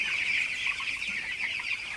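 Broiler chickens in a shed on fresh litter cluck in a busy, overlapping chatter, a close and continuous flock sound with no voices.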